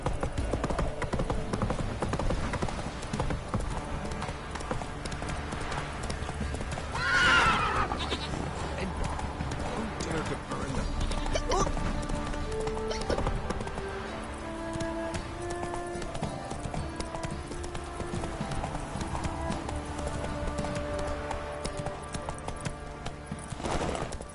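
The horse Roach in The Witcher 3 gallops in a steady, rapid rhythm of hoofbeats that stays close and prominent throughout, with ambient game sounds beneath.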